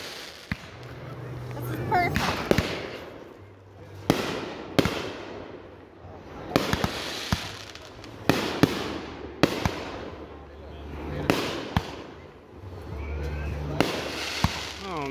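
Firework cakes fired at a 2022 backyard show produce rapid, irregular volleys of sharp pops and crackles over roughly fifteen seconds, fairly close, with people talking in the background.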